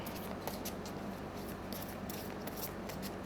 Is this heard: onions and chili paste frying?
no